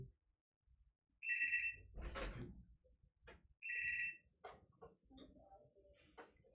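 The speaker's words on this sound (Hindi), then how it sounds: "पता है फ़ोन बज रहा है लेकिन ये मेरा नहीं है किसी और का है" A mobile phone ringtone chirps twice in short, bright bursts indoors, with brief voice sounds and scattered background noises between the rings.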